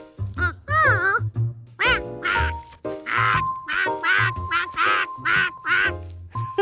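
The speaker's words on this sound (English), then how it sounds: "The duckling still thinks George is its mother" A cartoon duckling quacks repeatedly in short, bright, nasal bursts, loud and close, mixed with childlike vocal sounds and a light musical tone.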